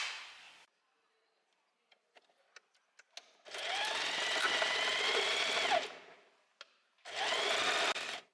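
A sewing machine stitches a dress skirt seam for a summer dress in two sustained bursts, the first long and steady, the second shorter after a pause with faint clicks, close and fairly loud with no talking.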